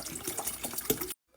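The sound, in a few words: water poured into pot of tomato sauce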